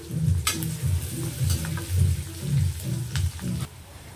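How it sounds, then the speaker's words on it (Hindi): Finely chopped onions fry in a pan over ginger and garlic that are already browned, with a close sizzle and rhythmic scraping strokes of a spatula and a few sharp clicks, and no one speaking. "अब इसमें हम बारीक कटे हुए प्याज डालकर उसे भी अच्छी तरह से भून"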